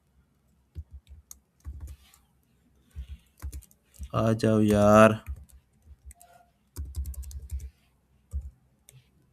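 Computer keyboard typing in short scattered bursts of clicks and taps, close and fairly quiet, with pauses between and someone talking in Hindi in the middle.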